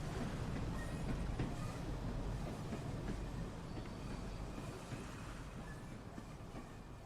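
Train rumbling along in the video game Train Sim World 2 on a seaside route, a steady loud roar of wheels and rail noise with faint clicks, constant throughout and slowly easing off toward the end.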